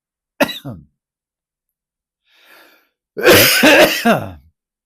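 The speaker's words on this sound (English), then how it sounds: "I'm going to have to cough that up." A sharp throat clear, a faint pause, then a louder burst of harsh coughing and throat clearing close by after swallowing a gnat, with no talking.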